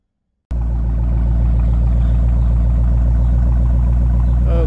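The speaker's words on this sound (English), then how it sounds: "what you're listening to here is the Roush axle backs" A 2010 Mustang GT with a 4.6 V8 and Roush axle-back exhaust starts abruptly after a moment of silence, then settles into a loud, close, deep burbling idle with a steady lopey pulse.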